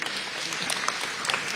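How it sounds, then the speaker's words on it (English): Audience at a school choice rally clapping: a brief burst of dense, moderately loud applause with scattered sharper claps. "he probably needs the loudest round of applause"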